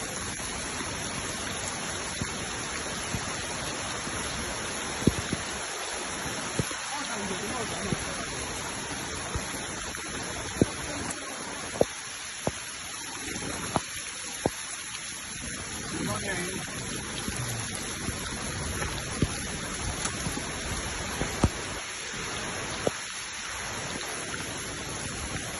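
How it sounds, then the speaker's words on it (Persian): Heavy torrential downpour in the Kolchap valley, a dense steady roar of rain across the whole stretch with scattered sharper drop hits and a few faint voices underneath. "در حین پیاده روی بارون سیل‌آسایی در گرفت"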